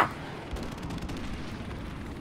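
A single loud sniper rifle shot in Call of Duty Modern Warfare Remastered multiplayer cracks at the very start, then fades into a dull rumble of distant battle.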